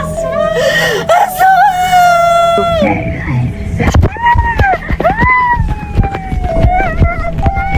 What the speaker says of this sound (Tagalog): Bakit may sumisigaw?